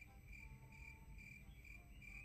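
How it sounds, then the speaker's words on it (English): Crickets chirp steadily in a camping horror video game, a continuous insect trill running through the whole stretch at low volume with no talking. "Why is there cricket music?"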